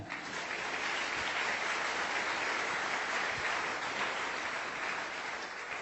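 A church congregation applauds the Lord, a steady dense wash of clapping from many hands that holds loud and even from start to finish, with no talking over it.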